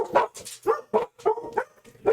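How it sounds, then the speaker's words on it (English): Several dogs bark excitedly in quick repeated yaps and woofs, loud and close, forming an irregular rapid string with no talk. "My dogs are going crazy."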